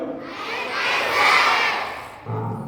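Schoolchildren at a village school shout together in a loud, swelling crowd roar that builds, peaks and then drops into a lower, steadier burst of voices near the end.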